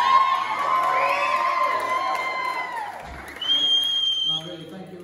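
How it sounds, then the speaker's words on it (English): Guests at a surprise 30th birthday party in a football club cheer, whoop and shout loudly at close range, with some children's voices mixed in and a brief lull before the noise swells again. "round of applause for Shanice"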